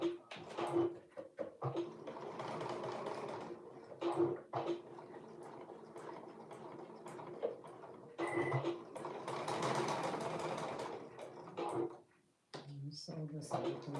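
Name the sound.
sewing machine sewing a seam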